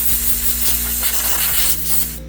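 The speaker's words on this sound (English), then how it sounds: "I'm going to be using compressed air to kind of blow the panel off" Compressed air gun blowing dust off a car body panel before dent repair with body filler: a loud, steady broadband hiss lasting the whole moment, with no voices.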